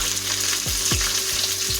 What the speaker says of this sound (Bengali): এখন আমরা এই গরম কড়াইয়ের উপর যোগ করে দেবো 100 গ্রাম পেঁয়াজ কুচি